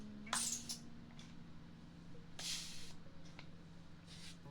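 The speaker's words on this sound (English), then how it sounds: "Makes more of a clicky sound than the actual spray." Spray bottle misting in an ASMR setting, several short hissing bursts with clicky trigger pulls, close and soft over a faint steady background hum.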